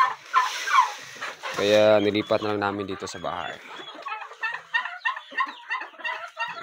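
Several turkeys gobble in loud bursts near the start, with clucking fowl around them, then a person talks over the birds.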